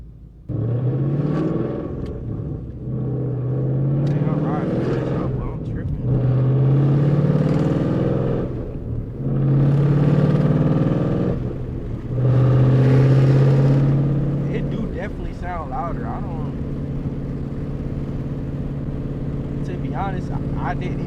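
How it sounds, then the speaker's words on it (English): A Ford Mustang GT's engine and exhaust rumble deep and loud while driving, swelling in four or five heavy revving surges before settling to a steady drone, with someone talking over it. "I didn't even know my car sounded like this, man. It sounds monstrous."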